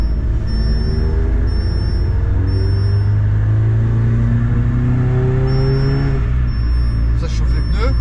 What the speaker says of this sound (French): Je chauffe bien les pneus pour avoir une bonne courbe